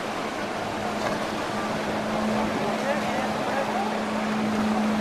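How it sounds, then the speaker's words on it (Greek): Motorboats gather on open sea off Paros for a 2002 offshore race, a steady engine drone with a low tonal hum and wash of water, continuous and moderately close, with a voice commenting over it. "Αρχίζουν και συγκεντρώνονται όλα τα σκάφη με τους κυβερνήτες."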